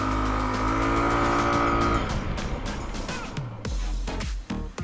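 An FKM Slick 150 scooter brakes hard on its front ABS brake. The loud engine drone drops sharply about halfway through as the scooter slows, leaving rough, uneven road and engine noise at the end.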